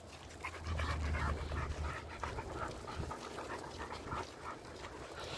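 A big cur-type dog pants steadily up close, rapid rhythmic breaths with a few faint whimpers mixed in, heard outdoors during a walk with no talk.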